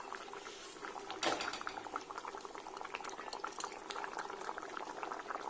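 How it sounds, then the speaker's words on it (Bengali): Fish curry with spices, aubergine and potato bubbling in a pot, a continuous close simmering burble of popping bubbles with one brief louder spoon or pot clink near the start. "এর মধ্যে মাছটা অ্যাড করে দিয়েছি একটুখানি মশলার সাথে ফুটে যাক"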